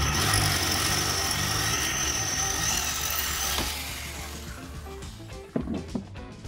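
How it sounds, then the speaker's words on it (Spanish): A power drill fitted with a bit bores holes through a metal rod, such as a bicycle rear axle, to make a homemade caliper, giving a steady loud whirring grind that fades and ends in a few clunks. "Esta broca que tengo en mis manos solo será para los agujeros de la parte lateral."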